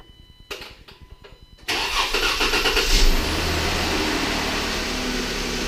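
A Jeep Wrangler JK with the 3.6 Pentastar V6 cranks with a quick rhythmic starter chug, fires up with a loud burst and a short rev, then settles into a steady close idle.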